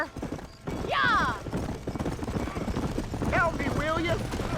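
Horses clip-clop and whinny shrilly near a burning barn in the video game Red Dead Redemption, with frantic hoofbeats and repeated neighs over crackling background noise while people shout nearby.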